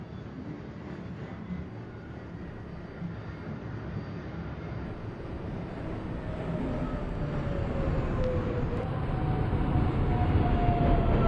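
A simulated NYC subway 7 express train approaches a station in OpenBVE, a steady low rumble of rolling wheels and motors that grows gradually louder, with a faint rising whine, continuous and without talk.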